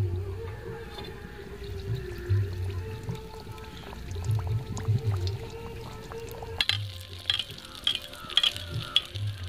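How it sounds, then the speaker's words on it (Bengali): Peas kachori deep-frying in a karahi of hot white oil over a medium flame, giving a steady sizzle with soft bubbling and occasional clinks and stirring scrapes, louder and more crackly toward the end. "তেল গরম হয়ে গেছে, ভেজে নেব। মিডিয়াম ফ্লেমে ভেজে নিতে হবে।"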